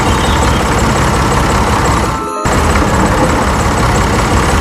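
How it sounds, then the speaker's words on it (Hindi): Cartoon tractor engine running loud and steady as it heads out to plough a field, a continuous rumbling drone with a brief dip near the middle and no talk. "रामू ट्रैक्टर लेकर खेत में हाल जोड़ने जाती है।"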